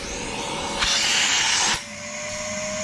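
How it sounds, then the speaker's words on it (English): A household vacuum cleaner sucks air out of a bicycle tyre inner tube during a puncture repair, its steady loud hiss and whine starting abruptly, holding for about a second, then cutting off over a faint background tone. "So we'll suck the air out of this tube a minute with the Hoover."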